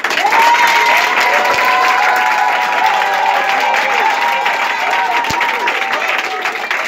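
A church congregation applauds to acclaim the Lord with steady, loud, continuous clapping, mixed with cheering and voices, holding its level throughout.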